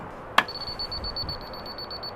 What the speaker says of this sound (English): It's a fast beep, which means that I'm high.